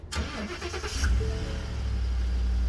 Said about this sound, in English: I'm gonna roll down this window so I can do that cold start for you